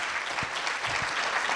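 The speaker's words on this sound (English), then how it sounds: "please join me with a round of applause in welcoming Professor Saleh to the podium" Conference audience clapping to welcome a professor to the podium at an international pharmacy research conference, a steady dense wash of applause throughout the short stretch.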